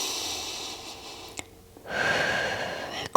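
A single audible breath during a standing yoga flow, a soft inhale followed by a longer, steady exhale, close and clear in a quiet room.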